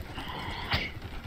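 A horse neighs once in a video game, a short whinny rising briefly over a low, steady background of game ambience with no talk.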